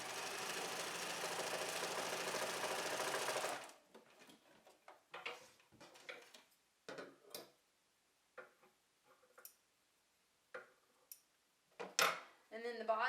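Sewing machine stitching the top hem of a fabric pocket, a steady mechanical whir for several seconds, then stopping, followed by scattered quiet clicks and handling noises.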